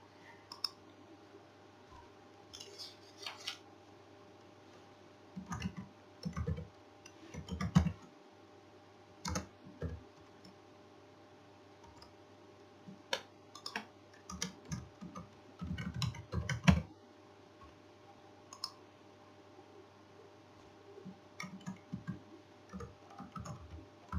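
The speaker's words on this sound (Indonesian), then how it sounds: "Jadi saya ketik dulu ya 3 mata kuliah ini." Fingers type on a computer keyboard in quiet, close, irregular bursts of clicking keystrokes with short pauses, entering course names into a Microsoft OneNote record, with no voice.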